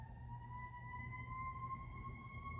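A steady emergency siren tone holds continuously over a low rumble, fairly distant and unchanging in pitch.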